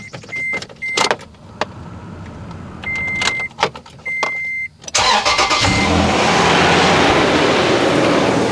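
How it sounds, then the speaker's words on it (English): A 2006 Toyota Tundra with the 4.0L V6 gets a few short key and click sounds, then the engine cranks and catches, settling into a loud, steady idle close by. "when I start the vehicle"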